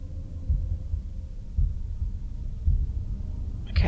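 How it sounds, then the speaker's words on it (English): A slow, deep heartbeat thumps in the puzzle video game The Room, with low pulses about a second apart over a steady hum and no voices. "That heartbeat is really kind of off-putting."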